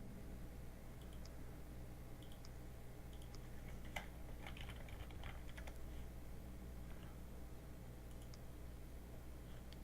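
A password tapped out on a computer keyboard in a video game: soft, scattered keystrokes, faint and close over a steady low hum.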